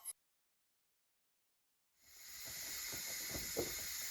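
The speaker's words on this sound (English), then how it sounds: "They clear that steam. It's really hot." After a brief click and a pause of silence, a strong steady hiss of escaping steam rises from a Nesco electric pressure canner and continues, loud and close, with a few small pops.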